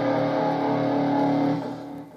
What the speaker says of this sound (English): This is over a dominant 7th chord.